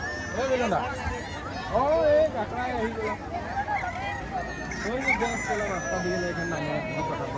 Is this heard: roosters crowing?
yes